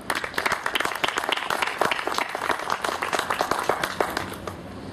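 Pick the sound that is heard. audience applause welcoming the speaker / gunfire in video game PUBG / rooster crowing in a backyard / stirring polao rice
audience applause welcoming the speaker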